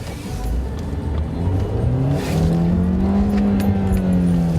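A 2013 Dodge Dart's engine revs under throttle from inside the cabin, a loud, rising drone that climbs steadily in pitch and holds, with a voice talking faintly over it.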